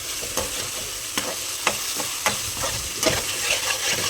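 Medium onions sizzle steadily in a pan as a spoon scrapes and stirs, with sharp scraping clacks recurring every half second or so over the constant frying hiss, and no talk.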